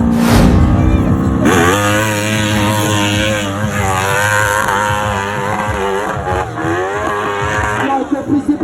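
Hill-climb motorcycle engine revving hard and roaring loudly, its pitch rising and wavering as it climbs steadily, heard continuously throughout with no voices.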